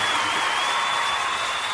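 Steady crowd applause with some cheering, a dense continuous wash of clapping that holds at an even level throughout, with no clear voices on top.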